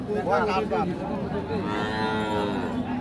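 Sahiwal cattle moo at a busy cattle market in Ranigonj, Dinajpur: a couple of near, loud drawn-out moos with a long bellow toward the end, over a murmur of crowd voices and market background noise.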